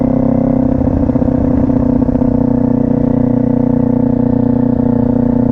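A motorcycle engine runs loud and close in a steady, throaty drone that holds without a break for several seconds, with no voices over it.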